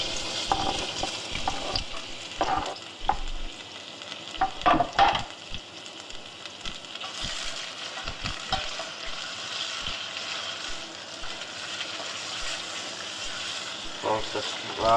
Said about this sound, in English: Also fry them so the onions are getting cooked first.